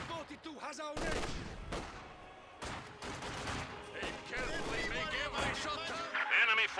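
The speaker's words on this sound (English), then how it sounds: "We are taking heavy machine gun fire." MG42 machine gun fire in Company of Heroes 2, a World War II strategy game, crackling in dense volleys amid battle noise with soldiers shouting over it throughout.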